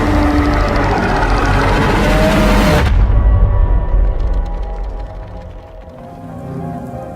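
Timefall rain in a video game trailer pours down in a dense, loud wash that cuts sharply to a softer, steadier patter of drops after a few seconds, continuing without voices.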